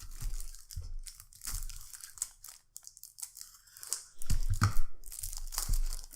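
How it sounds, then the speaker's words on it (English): Plastic shrink wrap cut and torn off a Founders of Gloomhaven board game box, with close crinkling, scissor snips and tearing in uneven bursts, louder rips near the end. "Let me see, I have to cut this open."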